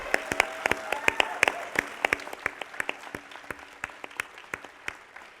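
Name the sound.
audience applause at awards ceremony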